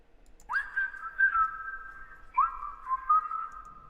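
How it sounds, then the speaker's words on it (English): A whistled melody from a remix of a song rises into two long, clear tonal phrases, each opening with an upward slide, close and solo against a quiet background. "this is the whistle melody from this"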